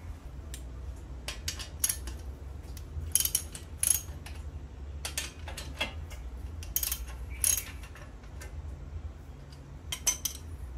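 Metal wrench clicking and clinking while loosening the two 12mm bolts on a Honda CRF150L motorcycle exhaust, a series of short sharp taps and ticks scattered irregularly over a low steady hum.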